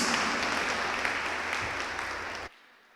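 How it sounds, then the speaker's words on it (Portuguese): A church congregation applauds in one dense, steady burst of clapping close by that cuts off abruptly near the end, leaving quiet. "Vamos aplaudir ao Senhor"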